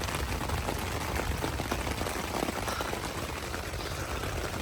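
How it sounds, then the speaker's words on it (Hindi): Steady heavy rain drumming on a tent close by, a constant dense patter with no pauses, at night during a thunderstorm in the Jhelum Valley. "बड़ी शदीद बारिश हो रही है"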